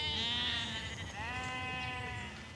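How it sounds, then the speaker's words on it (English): Sheep bleat repeatedly in a field, several animals calling loudly and close by in long overlapping cries with no talk. "So we've got sheep up there and sheep up there."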